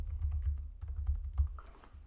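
Close, soft tapping on a computer keyboard runs in a steady stream of light clicks with brief gaps, quiet and without talk.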